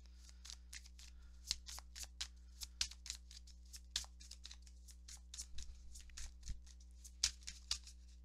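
Tarot cards are shuffled over and over in a quiet room during a card reading, making soft, papery riffling bursts in an uneven rhythm over a faint, steady low hum.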